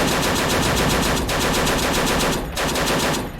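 Sustained, loud automatic machine-gun fire from a World War II battle in Men of War: Assault, a dense unbroken stream of rapid shots with two brief dips before the burst resumes.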